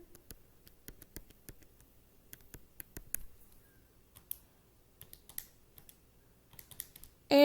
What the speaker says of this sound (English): Now we can just multiply all this in our calculator.